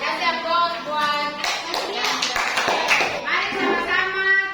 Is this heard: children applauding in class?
yes